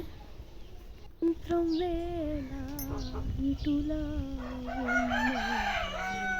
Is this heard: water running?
no